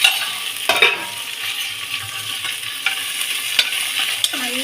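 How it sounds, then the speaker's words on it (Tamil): Green chilies sautéing in oil in a pan for mint rice: a continuous close sizzle, broken by a few scraping stirs of a spoon against the pan. "இந்த பாருங்கள், இது நல்லா வதங்கணும்"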